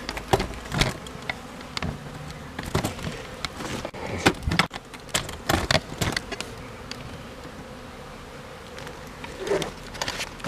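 Honey bees buzz around an open hive in an apiary, a close, dense hum punctuated by sharp wooden knocks and taps from the hive frames, with no voices.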